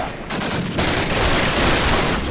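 Call of Duty gunfire rattles in dense, loud bursts, rapid automatic shots blending into a continuous fusillade close at hand.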